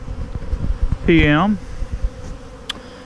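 Honey bees buzz near a hive in the evening, a close insect drone under a man's brief speech, with a short higher whine partway through.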